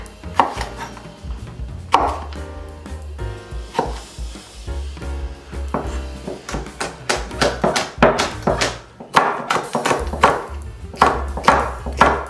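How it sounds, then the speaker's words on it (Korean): A knife slices green and red cheongyang chili peppers into thin rounds on a cutting board, making close, rapid irregular taps in quick bursts with brief pauses between runs. "고추는 그냥 동그랗게 송송 썰어주시면 되겠습니다"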